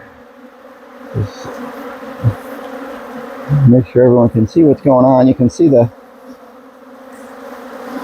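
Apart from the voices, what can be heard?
honey bees buzzing around farm apiary hive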